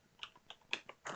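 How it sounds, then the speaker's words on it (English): Fingers typing a search on a computer keyboard, with a few quick keystroke clusters and then a denser burst of clicks, close and fairly quiet. "What if I just type Marcia in the search?"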